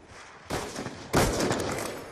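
Gunfire in a video game quickscope battle: two sharp, loud shot onsets close together, each trailing into a rushing, sustained wash of noise.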